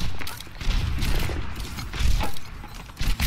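Scattered gunfire in the Overwatch shooter, a few sharp bursts and impacts spread through the clip amid busy game noise, with no voice heard.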